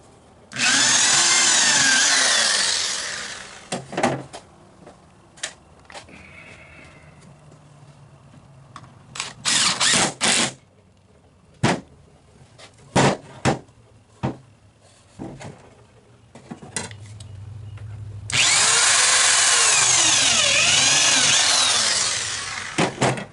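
A power drill drives screws into the wood of a glider swing, with a long loud whirring burst at the start, a series of short sharp clicks and bumps in the middle, then another sustained loud drilling run near the end.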